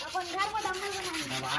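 Close, steady hand-rubbing and sanding of a motorcycle rim, a continuous gritty scrubbing with rhythmic back-and-forth strokes and faint voices underneath.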